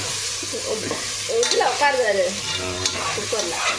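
Biryani stirred in a pot during home cooking, with a steady scraping and shuffling of the spoon through the rice and a low sizzle. The strokes come in uneven bursts, fairly close and clear, with no talking.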